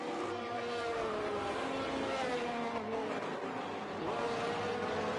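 Race cars in a simulated Canada round hold steady, high-pitched engine notes that shift through gears as the cars run on track, faint and continuous, with no talk in this stretch.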